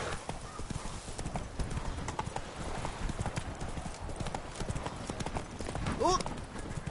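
A horse gallops in The Witcher 3, its rapid hoofbeats drumming steadily through the scene, with a short whinny near the end and a voice talking over the action.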